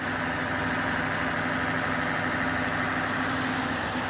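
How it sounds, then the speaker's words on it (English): A hydraulic fan cooling an oil cooler runs with a constant, dense mechanical drone and a low hum, unchanging throughout. "Hydraulic fan is obviously cooling either an oil cooler, probably not the engine radiator."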